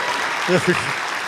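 A live audience at a technology security conference panel bursts into a brief round of applause, a soft, even hiss of clapping with a voice briefly heard over it.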